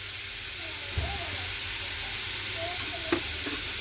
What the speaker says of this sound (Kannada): ಎಣ್ಣೆಯಲ್ಲಿ ಸ್ವಲ್ಪ ಚೆನ್ನಾಗಿ ಬಾಡಲಿ ಇದು.